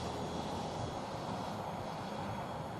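A small Twisted Hobbies RC aircraft flies nearby, its motor giving a steady, continuous broadband whir that holds level throughout with no talk over it.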